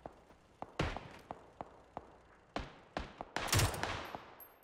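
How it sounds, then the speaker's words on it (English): A gun firing in burst mode in PUBG, with sharp, quiet pairs and short clusters of shots spaced unevenly, followed by a denser, louder rattle near the end. "If you have it in burst mode where the gun shoots two bullets"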